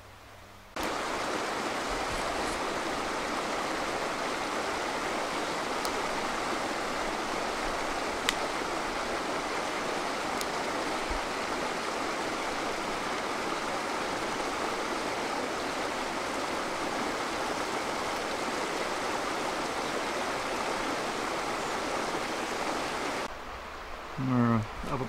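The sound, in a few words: creek water flowing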